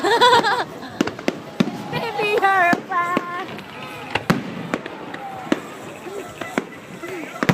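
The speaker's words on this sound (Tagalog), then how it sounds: "Pyro musical. Fireworks." Sharp firework bangs from a New Year's countdown pyromusical display in Tagaytay pop at irregular intervals, some near and loud, while excited voices chatter and exclaim throughout.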